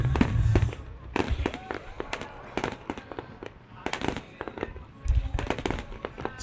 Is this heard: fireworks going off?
yes